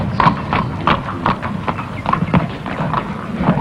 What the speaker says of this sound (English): Early morning, the first string of horses moves off.